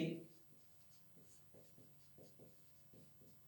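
A pen or chalk scratches out a maths formula for an arithmetic progression sum, a series of short rubbing strokes in uneven rhythm, close and faint, with a voice speaking briefly at the start.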